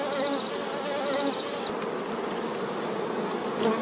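Honey bees buzz continuously and densely, a close, steady swarm hum with individual wings whining in and out.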